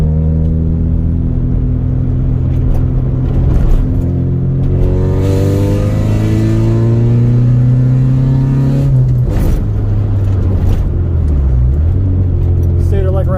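Stock B20B engine in a Honda Integra pulling hard at wide open throttle, its loud rising drone climbing steadily through the gears, briefly dropping at a shift, then building again, with talk over it.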